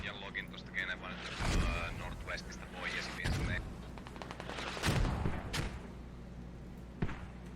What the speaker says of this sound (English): We see those mortars rocking